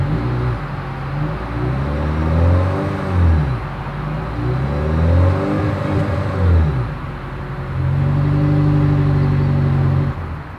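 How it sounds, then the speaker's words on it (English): A 2023 Toyota Crown hybrid AWD sedan runs with a smooth, muted exhaust note that swells as the engine revs and settles, sounding loud and close throughout. "As always, here is that exhaust clip."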